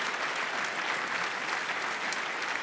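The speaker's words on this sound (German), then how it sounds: "da gibt es mal einen riesen Applaus" Enthusiastic applause from a sizable crowd, dense and continuous, filling the room without any voices rising above it.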